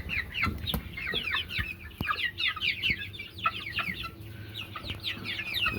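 Hens cluck and chatter in a flock with roosters nearby, a busy stream of short clucks and squawks at moderate distance, with occasional knocks and rustling in the background.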